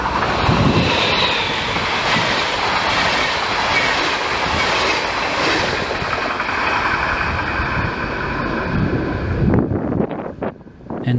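A 1957 E40-002 electric locomotive hauls a passenger train past close by, a loud continuous rumble with rhythmic wheel clatter and wind buffeting that drops away sharply near the end.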